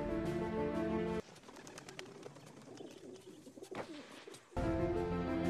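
A messenger pigeon coos softly amid faint rustling and chirps, set between stretches of loud wartime music on either side.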